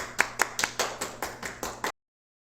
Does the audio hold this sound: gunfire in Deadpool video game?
no